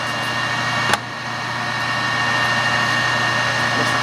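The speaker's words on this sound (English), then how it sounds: "That's the carriage feeding." A Clausing 600 series 11 x 30 inch lathe runs at 730 RPM with its carriage power-feeding, giving a steady machine hum with a steady low drone and one brief click near the start, and no talking.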